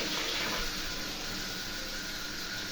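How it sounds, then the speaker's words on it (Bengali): Water pours steadily into a pan of crab curry, a continuous bright rushing splash that stays loud and even from start to finish with no voices. "ভালোভাবে কষানোর পর এখানে আমি দিয়ে দিলাম জল।"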